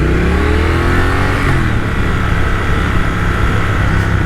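A 2021 Triumph Thruxton RS engine pulls hard under acceleration while being ridden, the loud rising drone climbing through the revs with steady wind rush behind it.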